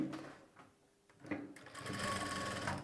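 A sewing machine stitches a blouse sleeve to the body piece in a quick, steady run that starts partway through, fairly faint and close, with no talking.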